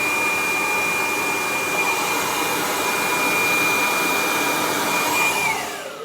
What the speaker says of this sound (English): You may need to do the blow drying more than once.